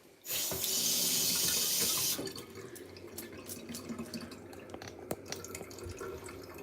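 Tap water gushes loudly into a sink for about two seconds in a home kitchen where plantain porridge is being cooked, then drops to a quieter trickle and drips.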